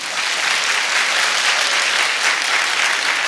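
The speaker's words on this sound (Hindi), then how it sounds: "दुर्गा पूजा के लिए भी एक जोरदार ताली होना चाहिए।" Loud, steady audience applause at a product launch event during Durga Puja season, dense clapping from a large crowd sustained without a break and with no voices over it.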